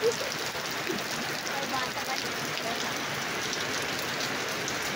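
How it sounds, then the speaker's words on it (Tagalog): Heavy rain pours steadily in a dense, even hiss in La Union, Philippines, with a faint voice briefly audible at the start. "lakas na naman ang ulan"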